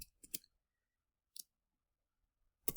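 Typing an answer into the ALEKS math site on a computer, with a few quick, light key clicks in small clusters separated by silence, close and quiet, no talking.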